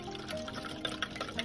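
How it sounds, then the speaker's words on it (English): A wet, liquid pour as a whisked mix of milk, melted butter, eggs and vanilla goes into a flour mixture for hot cocoa pancakes, close and brief with small splashy bursts. "I'm gonna pour that into the flour mixture and then fold it to combine gently."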